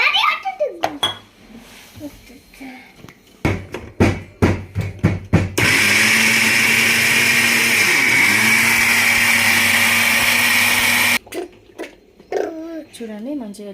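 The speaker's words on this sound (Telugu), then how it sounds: "ఇది కూడా మిక్సీ పట్టేసుకోండి" A mixer grinder blends fish curry paste with water in a loud, steady roar that lasts several seconds and then cuts off sharply. Voices and kitchen clatter come before and after the grinding.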